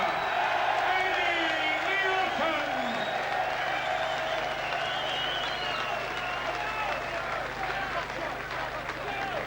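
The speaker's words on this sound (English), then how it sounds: "There'll be big applause for Nielsen." A boxing arena crowd applauds and cheers after a heavyweight bout, a steady dense roar of clapping and whoops under continuous commentary from a ringside broadcaster.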